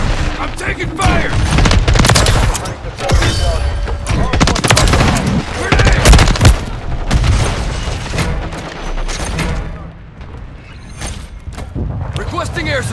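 Modern Warfare 3 multiplayer combat with dense, loud bursts of rifle and automatic gunfire, booms and rattling mechanisms layered continuously over shouted voices, with near and distant shots overlapping throughout.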